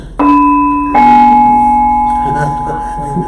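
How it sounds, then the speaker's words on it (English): A censor bell rings out in two loud, sustained tonal tones, the second striking just under a second after the first and ringing for several seconds while a voice talks faintly underneath. "That was a censor bell."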